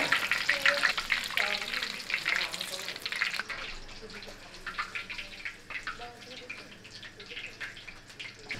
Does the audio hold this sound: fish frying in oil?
yes